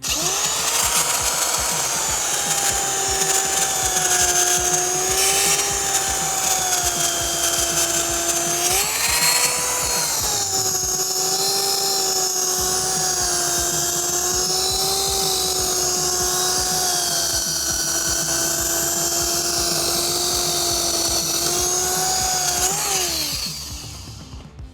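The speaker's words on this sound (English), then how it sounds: "let's use the corded sander" Corded sander shaping a curve into a PVC board, a loud steady high whine running continuously with slight pitch dips as pressure changes, then winding down at the end.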